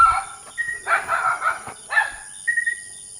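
A few sharp barks from a dog at a distance, spaced out with pauses, with some background noise.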